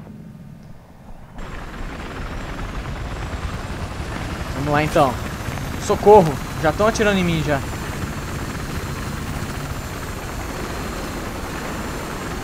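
Helicopter in Battlefield 3 with a steady loud rotor and engine roar filling the whole stretch after a brief quiet start, while someone talks over it.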